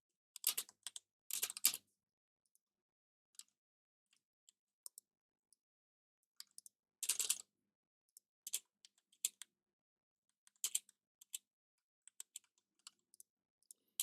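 Bursts of computer keyboard typing while entering code, with quick clusters of keystrokes separated by scattered single taps and pauses, close and clear with no talking.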